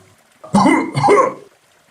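A voice acts out a cough, two quick rough bursts in a row, close and fairly loud.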